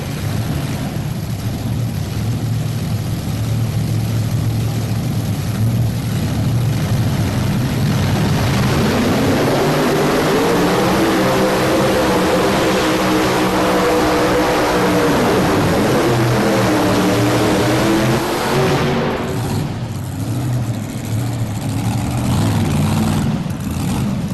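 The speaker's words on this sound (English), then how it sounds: "one of those engines just quit pulling" Modified-class race car engines from a 1999 race roar continuously in a loud, dense drone that swells and shifts pitch as the cars pass.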